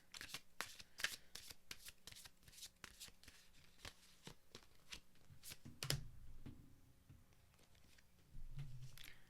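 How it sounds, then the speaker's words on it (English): Cards are shuffled for a reading during a mediumship session, a series of crisp riffling bursts and soft slaps, close and fairly quiet, with a brief rustle near the end. "let's get 3 cards from Conor"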